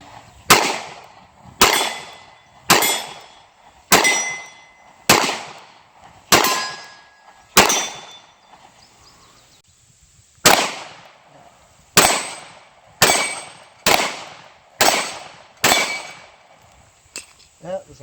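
Sig Sauer P320 9mm pistol fired at a steel target, a dozen sharp ringing shots with clanging hits, evenly spaced about a second apart in two strings separated by a short pause, loud and close.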